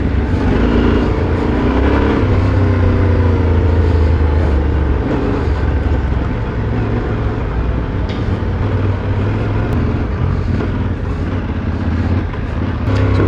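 A Yamaha Tenere 700 adventure motorcycle engine drones steadily and loudly at close range while riding, with a continuous low rumble and slight shifts in pitch, no voices present.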